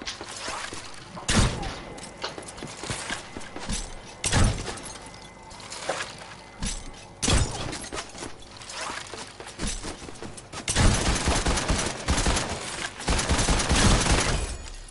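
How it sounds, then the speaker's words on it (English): Rapid bursts of gunfire in a Fortnite match, repeated volleys and cracks arriving in clusters over a dense, loud game soundscape with a heavier barrage near the end. "I'm being shot up."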